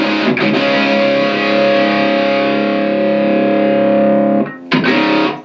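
A loud, sustained distorted electric guitar chord through a Blackstar HT-5R tube amp, gain halfway, rings out for several seconds, then cuts off before a short choppy strum returns.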